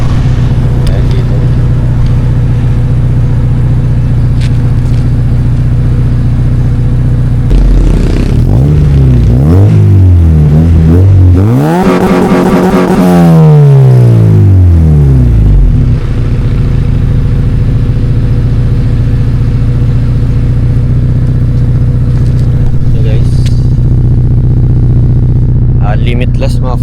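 A Honda Civic EK with a Limitless muffler and resonator, 2.4-inch piping and a K-tuned-style setup idles with a low steady rumble, then revs hard in several rising and falling sweeps before settling back to idle.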